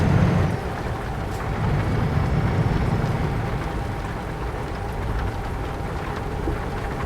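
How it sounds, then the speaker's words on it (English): Steady rain drumming on a truck cab while driving in Euro Truck Simulator 2, a Volvo FH16 780 on a London to Liège route; constant broadband wash with low rumble, continuous and fairly loud throughout. "I just wish this rain had stopped now, guys."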